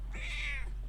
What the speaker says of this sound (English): He is such a poor neglected kitty, aren't you?